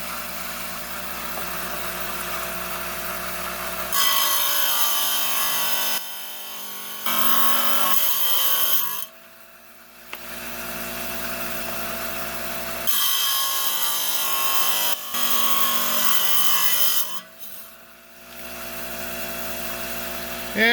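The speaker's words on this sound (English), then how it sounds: "we're down here in the 5-inch trim saw. There's the shape. We're going to trim some of that edge off there." A 5-inch trim saw cuts a quartz slab with jasper plume, its loud, steady whine holding through several long passes that break off briefly between cuts.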